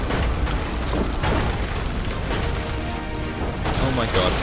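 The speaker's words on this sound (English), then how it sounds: "Oh that's a cannon. That's a cannonball." Cannon fire from Assassin's Creed 3, with heavy booms and rumbling impacts of cannonballs blending into a dense, loud, continuous wall of battle noise, with voices partly audible beneath.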